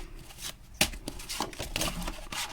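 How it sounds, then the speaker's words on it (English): Tarot cards are shuffled by hand in a run of quick, crisp riffles and soft slaps, close and fairly loud, with small pauses between bursts. "These cards aren't easy to shuffle."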